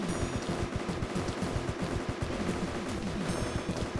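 Rapid guns firing at crabs in the Ridiculous Fishing video game, a steady dense stream of loud gunfire shots rattling continuously throughout with no pauses.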